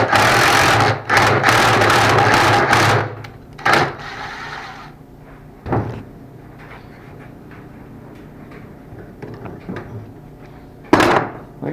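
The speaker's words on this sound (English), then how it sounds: "Here I can just thread it onto that bolt. Use my impact driver," Cordless impact driver threading a wooden beer tap handle onto a bolt in a workshop, giving several loud, close bursts of rapid hammering at the start, then shorter isolated hits with quieter gaps between.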